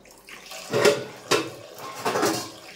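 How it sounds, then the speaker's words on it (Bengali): Mutton being washed under running water, with three splashing gushes at a tap, each swelling and fading, close by and alone. "এই যে মাটন ধোবো এখন।"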